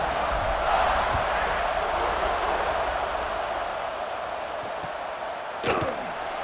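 Stadium crowd in the College Football 26 video game gives a sustained broad roar before kickoff, steady and fairly loud with a brief sharp thump near the end.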